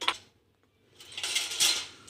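A fork clinks against dishes while chow mein made from Maggi noodles is served, with a quick tap, a pause, then a busier run of bright metallic clatter, close and fairly quiet.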